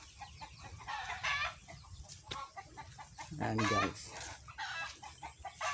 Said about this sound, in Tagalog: Daming manok. Manok namin yan.